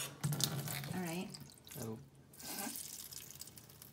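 Water runs from a newly installed kitchen faucet into a sink, a soft steady hiss that surges and eases in short bursts while people talk nearby.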